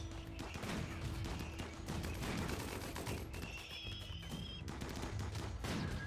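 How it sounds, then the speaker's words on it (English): Thump cannon firing in the video game Rimworld, a dense volley of sharp, repeated bursts and booming impacts that keep going throughout. "Termite with a thump cannon."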